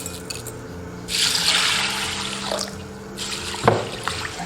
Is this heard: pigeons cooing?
no